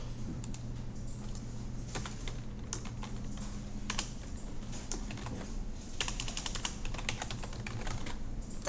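Typing on a computer keyboard: a steady run of quick, light key clicks with irregular rhythm, close and moderately loud over a low background hum, with no talk.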